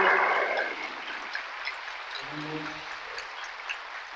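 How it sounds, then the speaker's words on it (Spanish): A round of applause from a Spanish-speaking audience at a talk on happiness amid loss, moderate and steady, fading slightly as a brief voice sounds beneath it. "Un fuerte aplauso."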